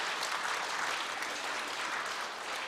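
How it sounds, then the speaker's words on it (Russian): An audience at a music festival in Yaroslavl applauds, a dense, steady wash of clapping that holds at an even level throughout, with no voices over it. "Под ваши аплодисменты."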